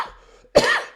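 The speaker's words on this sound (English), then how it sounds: "See, there's a little bit of the cough left." A single sharp cough from a man, close and loud, bursting in after a short quiet stretch and trailing into a raspy throat-clearing tail.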